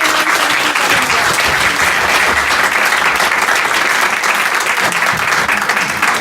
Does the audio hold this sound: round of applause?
yes